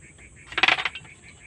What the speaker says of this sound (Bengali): আমি একটু সর্ষে ফোড়নে দিয়ে দিলাম